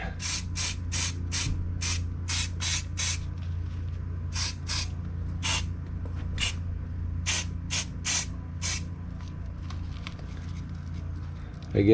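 An aerosol spray can sprays a 1/25 scale model kit part, likely the inside of a tire, in a dozen or so short, sharp hissing bursts in an uneven rhythm over a steady low room hum.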